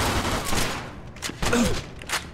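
Gunfire from the Mafia II video game, several loud bursts with broadband cracks spread across the short stretch, close and harsh.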